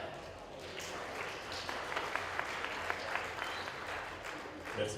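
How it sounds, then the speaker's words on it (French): An audience at a 2010 cabaret in Orp-Le-Grand applauds, a dense steady wash of many hands clapping at moderate distance that carries on for several seconds, with a voice faintly underneath. "sous vos applaudissements, voici Vincent."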